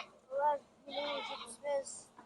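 Sheep bleat at a livestock market in Kyzylorda, giving three nearby wavering calls in quick succession over a low murmur of market background noise.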